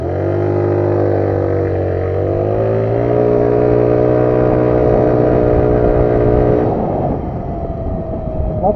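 A motorcycle engine fitted with a new performance magneto flywheel revs hard and steadily, its tone climbing then holding high before dropping back to idle, loud and close with no talking over it.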